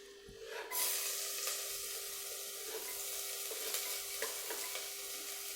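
Chopped garlic sizzles in hot coconut oil, a sudden loud hiss as it hits the pan that then settles into a steady, close frying crackle with occasional stirring clicks.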